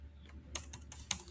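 Rapid keystrokes on a computer keyboard while HTML details and summary tags are entered, several crisp clicks in a short uneven burst, close and fairly quiet over a low steady hum.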